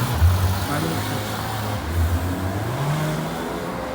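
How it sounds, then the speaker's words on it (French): A Ferrari California in azure blue drives by on a Geneva street, its engine note rising and falling close by amid steady traffic rumble, with voices talking over it. "Regardez, Ferrari California"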